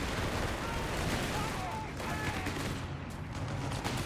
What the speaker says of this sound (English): Nice machine gun positioning to shut down the Grenadiers